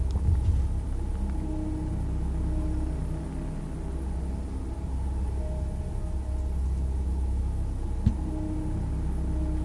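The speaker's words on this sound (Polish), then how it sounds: "to auto przejechało" A car drives past at night outdoors, heard as a steady low rumble of engine and road noise holding through the whole stretch, with a single faint knock near the end and no voices.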